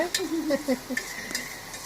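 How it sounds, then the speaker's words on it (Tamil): Paneer butter masala ingredients sautéing in oil in a pan, a soft faint sizzle broken by light scraping stirs and clinks of a spoon against the pan. "இது நல்லா அந்த எண்ணெயிலையும் நல்லா வதங்கட்டும்"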